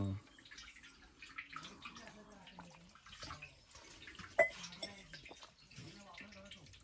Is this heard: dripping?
yes